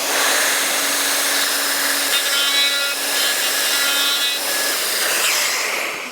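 A power router cuts wood inside a hole during template routing, with the workpiece clamped down and a dust extractor running. A loud, steady whining roar holds throughout, its pitch shifting slightly midway as the bit works around the cut.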